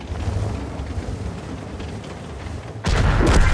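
A 60TP tank's cannon fires in a video game, a sudden loud blast near the end that bursts in over a steady rumbling background.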